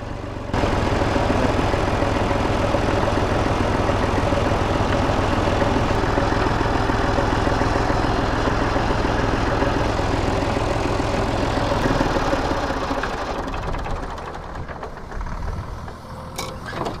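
A small old blue tractor, recalling 1950s farming, idles at corn sowing time with a steady loud rumbling chug close by that holds for most of the stretch, then eases slightly lower near the end.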